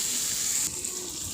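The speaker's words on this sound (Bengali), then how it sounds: "ঝোলের পানি দিয়ে দিলাম" Water is poured into a pot of rohu fish curry cooking with pumpkin, a short, steady hissing splash close by.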